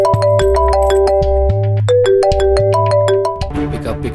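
A loud electronic ringtone plays from a phone as a call goes unanswered, a bright repeating melodic tune over a pulsing bass line, clear and close with no talking.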